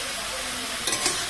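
Turmeric is stirred into pumpkin greens in a hot pan, giving a dense, continuous sizzle with a brief scrape of the spoon near the end, close and without voices.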